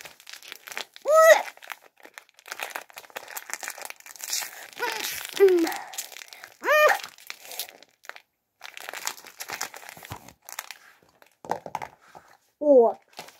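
Plastic packaging of gummy candies from an A4 box being torn and crinkled open, with crackling and tearing bursts spread through the clip amid frequent speech and some high-pitched vocal sounds.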